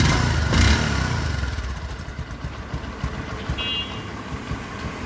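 A used Discover 125 motorcycle engine idles steadily nearby with a low, even rumble and a faint beep partway through.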